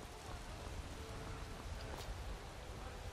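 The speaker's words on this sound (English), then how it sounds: "Still raining." Steady rain in the video game Skyrim hisses as a dense, even patter, with occasional faint low rumbles underneath and no voices.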